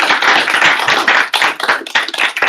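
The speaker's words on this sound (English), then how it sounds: "Let's give a round of applause for Andrew." Audience applause at a Write the Docs meetup in Ottawa, a dense round of many hands clapping close by and fairly loud, steady for over two seconds before thinning out.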